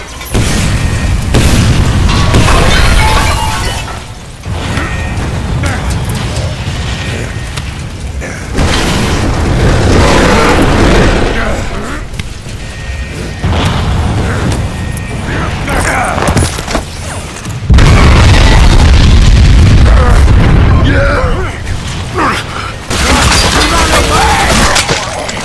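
Gravity core generators detonating in the video game Bulletstorm: repeated heavy booms and blasts in loud bursts over a dense mechanical rumble, with pauses between waves.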